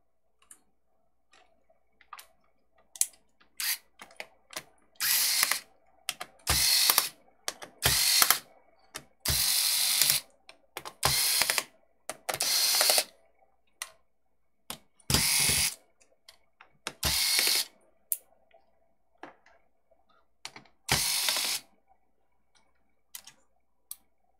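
A screwdriver backs screws out of a Gigabyte Aorus 15G XC gaming laptop, giving close, crisp ratcheting clicks in short, repeated bursts with silent pauses between them.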